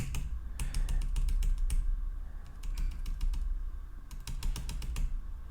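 Computer keyboard keystrokes tapped out in quick irregular bursts while coding a Tetris game, with short pauses between runs of clacking keys, close and moderately loud.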